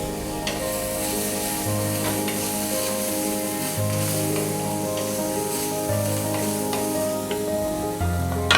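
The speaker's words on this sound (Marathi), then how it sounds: "थोडंसं टोमॅटोला पण टाकूयात तव्यावर" Tomatoes sizzle steadily on a hot griddle, a continuous crackling hiss with musical tones running underneath throughout.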